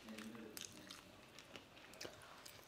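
Crunchy cheese snacks being chewed close up, a run of faint soft crunches and squishy bites at an irregular rhythm, quiet and alone.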